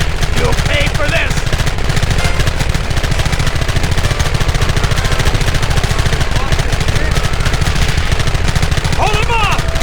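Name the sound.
gunfire from video game Red Dead Redemption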